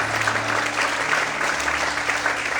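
Church congregation applauding during a worship service, a continuous wash of clapping at even loudness throughout, with a low hum underneath.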